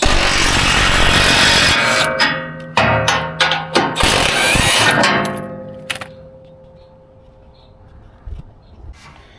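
Tools at work removing the skid plate bolts from a 2019 second-generation Ford F-150 Raptor, with loud clustered metallic clicks and knocks over several seconds, then fainter scattered clanks after a quieter stretch.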